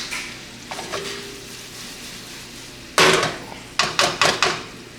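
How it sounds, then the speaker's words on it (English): Food simmering in a pan for a meatloaf meal, a low sizzle under spoon strokes, then a burst of loud scraping and clanking against the pan in quick repeated strokes. "Keep stirring it up a little bit. Let that simmer for a minute."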